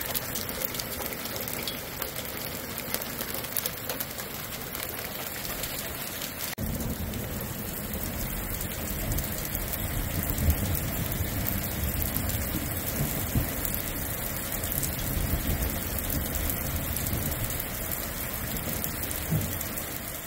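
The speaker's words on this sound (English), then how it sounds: "we are getting a nice little hailstorm." Dense, steady pattering of hard hail pellets striking a new home construction site in December, loud and continuous throughout with a heavier roar after the opening seconds; no talking.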